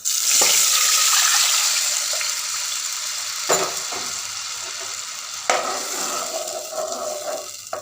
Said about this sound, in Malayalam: നമുക്കിനി നേരത്തെ എടുത്തു വെച്ച പുളീൻ്റെ ചാറ് ഒഴിച്ചു കൊടുക്കാം.